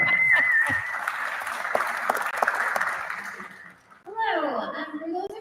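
A room of people clapping at a community council zoning and land use meeting, a steady wave of applause for about four seconds that fades, followed by a person starting to speak.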